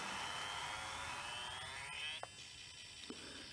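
Small electric motor of a model locomotive running at moderate speed while its bogie wheels are cleaned, a steady high whine with a slowly rising pitch, close up, followed by a couple of light clicks.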